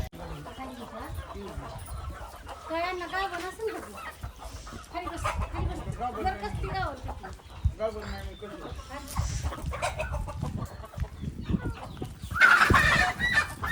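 Hens clucking and a rooster calling in the background, mixed with ongoing talk and rustling movement; a louder burst near the end.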